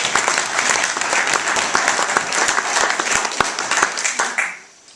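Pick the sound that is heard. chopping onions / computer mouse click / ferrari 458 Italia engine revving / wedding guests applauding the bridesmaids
wedding guests applauding the bridesmaids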